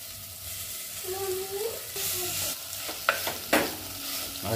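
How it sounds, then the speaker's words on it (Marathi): Wild tamarind leaf vegetable is stirred with coriander powder and spices in a pan, a soft close sizzle with scraping strokes that grow sharper and clack near the end. "अशी व्यवस्थित मिक्स करून घ्यायची आहे भाजी।"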